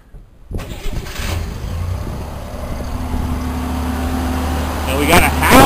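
Car engine cranking and catching, then settling into a steady idle with a fan starting to howl; loud and close, with a voice speaking over it.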